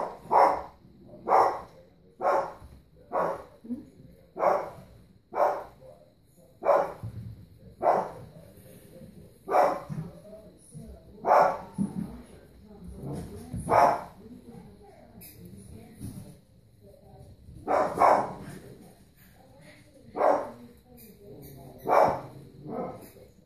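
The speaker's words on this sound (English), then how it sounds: "Who's that barking?" A six-week-old puppy barks over and over in short, sharp yips, spaced about a second apart and continuing steadily at moderate distance.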